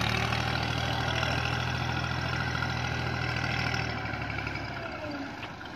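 A Massey Ferguson 240 tractor, a 2010 model, pulls a fully loaded trolley, its diesel engine a steady close drone with a deep low hum that eases slightly toward the end, no voices.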